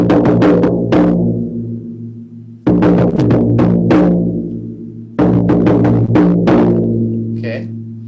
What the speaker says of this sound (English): when the journey is finished, I'm going to give a signal to everyone on the drum